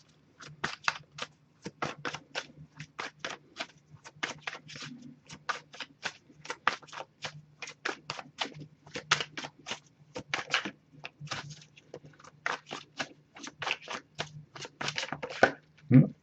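Oracle cards being shuffled by hand, a long run of crisp riffling bursts in a quick, uneven rhythm, close and fairly quiet with a faint low hum underneath.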